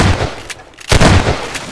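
Gunfire in a Half-Life 2 Deathmatch 1v1 match, a few loud, sharp shots at close range with short gaps between them.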